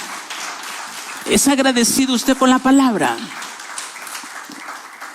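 A church congregation in Honduras claps steadily in the background while a preacher speaks loudly over the middle section, the dense hand-clapping clearer before and after the voice.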